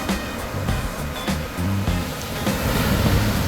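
Ocean surf breaks and washes continuously at a beach, a loud, broad rushing roar with surging swells and no voices.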